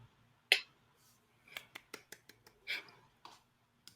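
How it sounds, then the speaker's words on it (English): A single person gives a lackluster applause, a sparse run of close, sharp handclaps with uneven gaps and no crowd, in a quiet room. "I love a lackluster applause. Singular, I might add."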